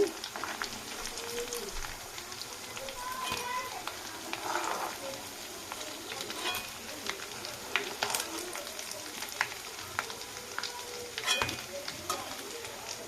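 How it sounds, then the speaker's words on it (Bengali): Fish chops frying in hot oil in a home kitchen, a soft continuous sizzle with scattered crackles and occasional light clinks of a utensil, fairly quiet throughout. "লাল লাল করে ভেজে নেব যেহেতু চপ লাল লাল করে ভাজলে ভালো লাগবে"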